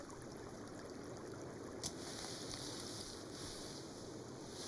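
Flowing stream water in the Sons Of The Forest survival game, a steady, soft wash of trickling water with a faint splash as a container is refilled, no voices.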